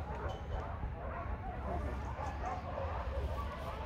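Dogs at an adoption setting bark and yip in short bursts under steady background noise, with people talking nearby.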